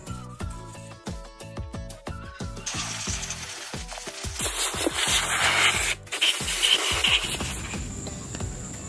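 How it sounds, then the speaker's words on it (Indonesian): Rhythmic scraping strokes of sandpaper on the clutch shoe seat of a Honda Vario 150 scooter's CVT, fast and close, turning into a louder continuous rough rubbing hiss. "jangan lupa kita amplas bagian dudukan kampas gandanya"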